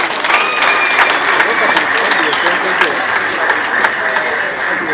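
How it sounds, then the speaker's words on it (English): A large audience at a political party launch by the FDC applauds steadily for the full stretch, a dense, loud wash of clapping with scattered cheers. "I want you to clap for them."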